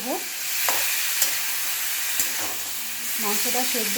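Chicken masala being sautéed in a pan with dried chillies, a steady frying sizzle and hiss throughout with a spatula scraping and clacking against the pan at intervals; a brief voice is heard near the end.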